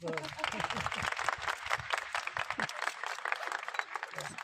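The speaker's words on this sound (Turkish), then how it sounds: "Bir alkışlayın ama." A small group clapping at a women's national team training visit, brisk, fairly close applause throughout, with voices talking over the first half.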